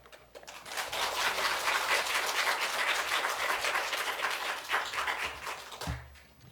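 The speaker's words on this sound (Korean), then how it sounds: "목사님 나오실 때 환영하고 감사하는 마음으로 우리 박수하겠습니다" A church congregation claps in welcome as the pastor comes forward for the Sunday sermon, a broad sustained round of many hands, moderately loud, building then tapering off after about five seconds.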